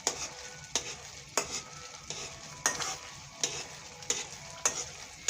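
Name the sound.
spoon stirring halwa in a pan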